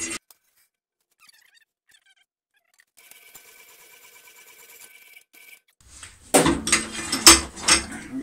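A power hacksaw cuts steel rebar with a faint, steady mechanical clatter, then louder grinding, rasping strokes come in near the end.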